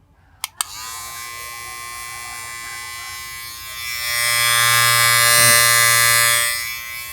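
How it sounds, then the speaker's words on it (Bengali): A Kemei KM-9050 electric trimmer switches on after a couple of sharp clicks and runs with a steady, close buzzing hum that swells louder midway and stays constant, with no talking. "এই টিমারটা আপনি যখন এইখানে প্রেস করবেন তখন কিন্তু এটা আসলে চালু হবে"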